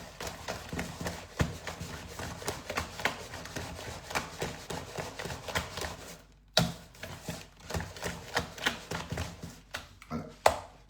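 A French home cook stirs a preparation after adding crème fraîche, giving soft, irregular scraping and tapping knocks of a utensil against a bowl, close by, with a brief pause partway through.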